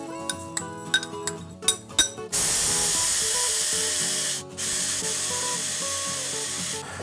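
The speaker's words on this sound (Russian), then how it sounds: "Берем обычный рис, кофемолку." An electric coffee grinder mills plain rice into flour: a few rattling clicks as grains drop in, then a loud, steady whirring roar that dips briefly midway before running on, with no voices.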